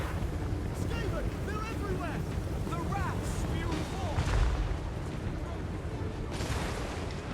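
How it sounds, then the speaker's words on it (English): Poison wind globadier bombardment in Total War: Warhammer 3: a steady rumble of battle noise with scattered blasts. A heavier low thump lands midway, and squeaky chirping calls rise over the din. "Poison wind globadier bombardment."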